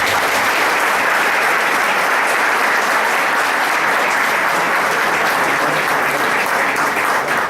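An audience at a human rights forum breaks into loud, dense applause that carries on evenly for several seconds without letting up.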